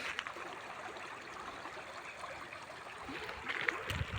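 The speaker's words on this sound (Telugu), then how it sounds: "కెనాలి వాటర్ కూడా ఫుల్ ఉంది. ఇక చూడండి, 24 అవర్స్ వాటర్ పోతూనే ఉంటాయి." Water flowing along a full farmland canal beside a rural plot in Jangaon district, a steady broadband rush and trickle heard alone, with a slight rise in splashing near the end.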